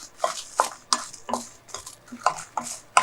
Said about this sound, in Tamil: கைவிடாமல் வறுத்துருங்க